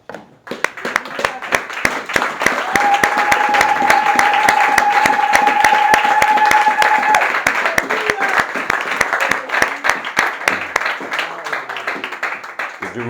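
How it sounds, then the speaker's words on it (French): A church congregation applauds, standing after a reading, in sustained dense clapping that swells and holds for several seconds before thinning out, loud and close, with a held sung or organ tone running through the middle. "Nous allons nous lever et acclamer la parole du Seigneur"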